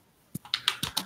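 Typing on a computer keyboard: about five quick, close key clicks in a short burst, crisp and fairly faint.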